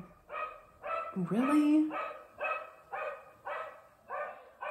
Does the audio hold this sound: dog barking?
yes